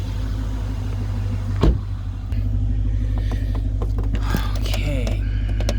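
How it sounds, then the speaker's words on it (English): A BMW E70 X5 50i is started up, with a brief starter whir that settles into a steady low engine idle rumble. Smaller mechanical clicks and rustles come through close by over the running engine. "Now when I turn the car on, we're gonna see what happens."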